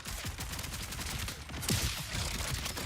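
Rapid bursts of gunfire from the player's weapon in Borderlands 4, dense repeated shots with explosions mixed in, loud and continuous.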